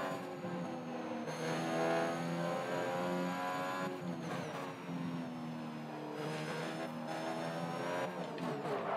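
A Formula 1 race car in F1 2021 accelerating, a steady high-pitched engine whine climbing through the gears, with brief dips at each shift and the tone holding strong, no talking.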